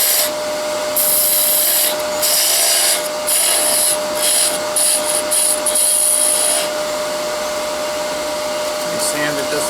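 Sanding a turned wooden Christmas ornament on a lathe: a steady hissing rasp of abrasive against spinning wood, loud and continuous for several seconds, then easing off, with a constant motor whine underneath.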